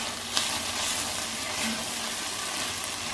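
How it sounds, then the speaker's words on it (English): Butter, chopped garlic and Dijon mustard sizzle steadily in a hot pan, a close, continuous crackling hiss with a few sharper pops and stirring sounds. "We're just gonna let this sizzle up for about a minute."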